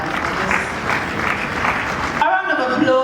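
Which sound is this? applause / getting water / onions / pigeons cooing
applause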